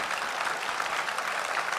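Steady, dense applause from a political rally crowd in Brest, a continuous wash of clapping hands that fills the whole moment evenly with no voice breaking through.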